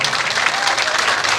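Steady audience applause at a stage show of film dialogues, a dense, even patter of many hands clapping close and loud without a break.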